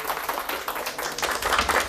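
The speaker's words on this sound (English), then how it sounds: "Please, now, round of applause first" An audience gives a round of applause, a steady patter of many hands clapping, moderately loud and continuous for the whole stretch.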